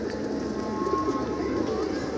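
Pigeons coo continuously in a loft on an afternoon, a dense layered murmur of overlapping calls at moderate distance, with a faint thin tone running through the middle.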